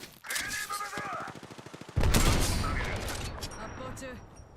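Rapid gunfire in an online shooter video game: a fast burst of automatic shots, then a loud heavy boom that fades into rattling debris and echo, with a brief game voice line near the start.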